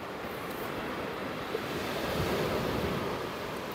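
Wind blowing in off the sea at Browns Bay beach, a steady broadband rush that blends with rolling surf, loud and constant with buffeting against the microphone.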